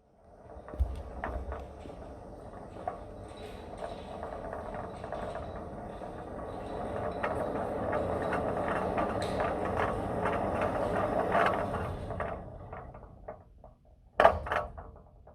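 Fly system at the Victoria Theatre, with its 62.5-foot fly loft, runs on fly rail Q4 as a rider goes up: a steady mechanical rumble with rattles and clanks builds for about twelve seconds, then a sharp loud clunk near the end.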